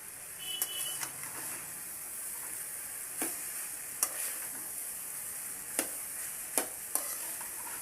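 Vegetable fried rice stirred in a hot pan, with a steady frying sizzle broken by a handful of sharp, irregular spatula scrapes and taps against the metal, close and moderately quiet.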